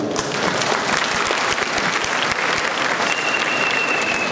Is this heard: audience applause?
yes